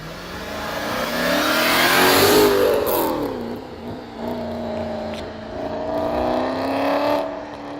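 An Audi RS4 B7 with a 4.2-litre naturally aspirated petrol V8 revs up, sweeps down and climbs again, loud and nearby, the throaty engine note rising and falling in two swells.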